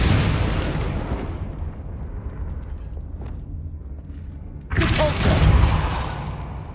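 Confringo fire spell blast in the Hogwarts Legacy video game: a low, rumbling ambience gives way to a sudden loud, broad explosive burst near the end that lingers for a moment.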